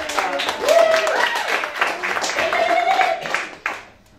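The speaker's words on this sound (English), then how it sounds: "Everybody give Josh a round of applause." Audience applause and cheering for a volunteer coming up on stage at a live show, lively clapping mixed with excited voices for about four seconds before it fades.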